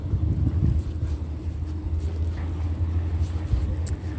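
A Foothill Transit bus passes at the Montclair Transit Center, its low engine rumble steady and fairly close, mixed with wind buffeting the microphone and outdoor traffic noise.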